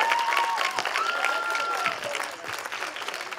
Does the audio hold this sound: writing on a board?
no